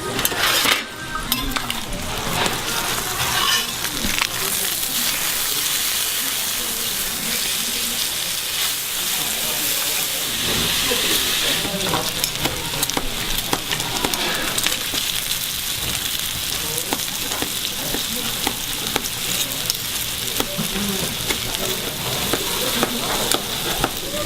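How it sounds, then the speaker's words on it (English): Pork belly on a hot stone sizzles and spits loudly and continuously, a dense crackling hiss with steady bursts, while people talk intermittently underneath. "the steam that's coming off of this pork is incredible"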